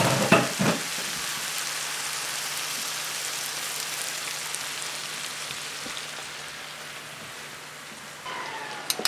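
Oil sizzling steadily in a pan while cooking ratatouille, a loud continuous crackling hiss with a few clatters of utensils at the start and end.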